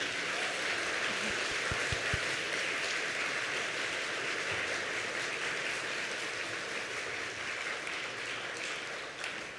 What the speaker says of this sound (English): give some applause to all of our musicians today